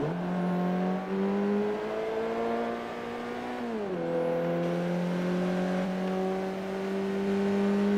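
A Golf R engine in Forza Motorsport 3 drones on the Nordschleife at a steady pitch, dips briefly as the driver lifts, then climbs back, loud and close with no talk.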